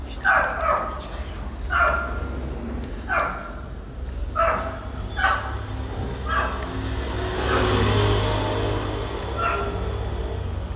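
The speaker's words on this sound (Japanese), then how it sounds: "犬はめっちゃ鳴いてるんですけど、" Dogs barking repeatedly near a border area, a steady series of sharp yips and barks at roughly one-second intervals, fairly close, followed by a louder wash of background noise.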